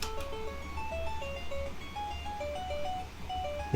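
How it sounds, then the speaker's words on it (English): An analog synth patch plays a quiet, plucky melody of short repeated notes, demonstrated on its own during a music production lesson. "It's called analog synth,"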